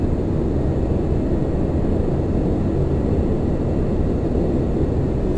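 Lockheed L1011 Tristar jet engines in a flight simulator give a steady, dense roar with power slightly raised, a constant broadband rush without pause.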